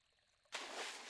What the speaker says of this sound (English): there's something bubbling right here, actually.